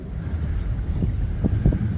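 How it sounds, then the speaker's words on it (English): Wind blows steadily across a sailing boat off Gozo on a rough day, a low buffeting rush with gusty microphone thumps and faint water sounds, no voices. "Shame it's a bit windy and rough out here today"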